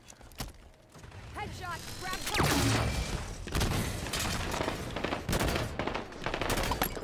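Bursts of gunfire ring out in a Halo 5 Big Team Battle match, sharp rapid volleys and scattered single shots mixed with mechanical clanks, while a player talks over the action.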